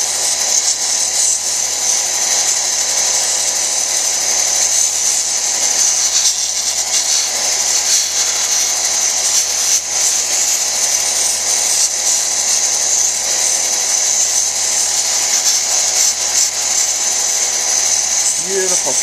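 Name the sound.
lapidary sanding wheel grinding a stone cabochon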